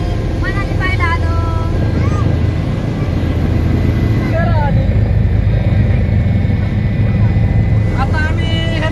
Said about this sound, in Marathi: आम्ही बसलो आता हेलिकॉप्टर मध्ये मनाली पाहायला आलो